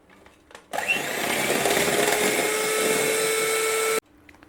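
An electric mixer whirs loudly and steadily for about three seconds while beating eggs with powdered sugar for a chocolate banana cake batter, starting and stopping abruptly.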